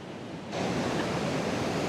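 A waterfall in Banff National Park roars as a steady, broad wash of rushing water that swells in abruptly and then holds constant and fairly loud, with no voices over it.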